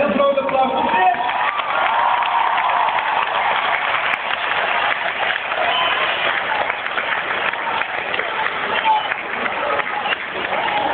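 A concert crowd at Rijnhal Arnhem applauds and cheers loudly for a performer, dense sustained clapping and shouting with voices mixed in.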